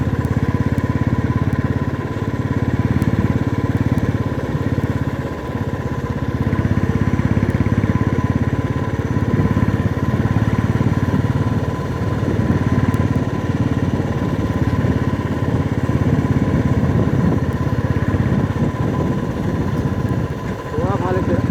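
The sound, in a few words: motorcycle engine running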